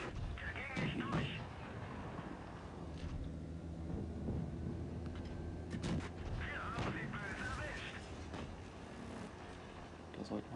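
In the World of Tanks Blitz video game, tank cannons fire in several heavy booming blasts spread across the stretch, over a low engine rumble, while someone talks in German throughout.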